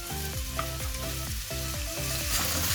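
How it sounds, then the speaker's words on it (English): Beef browning in a pot for stew gives a loud, continuous sizzle, broken by regular scraping stir strokes that come every fraction of a second, close up, with no talking. "You just want to brown it so it keeps in all the flavours of the beef"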